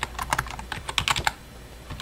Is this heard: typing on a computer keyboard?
yes